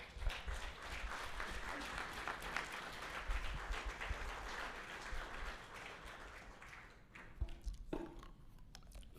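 Audience at a community association meeting clapping steadily, a moderate crowd applause fading out, with a faint murmur of voices near the end.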